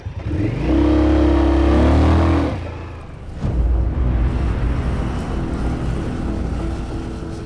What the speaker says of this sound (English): The 1133cc engine from the Scout, 94 bhp, and it's quite a hoot to ride.